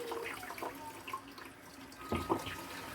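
Water is poured into the basket area of a countertop ice maker in a home kitchen, a short run of splashing and trickling with a few louder gurgles and drips near the end.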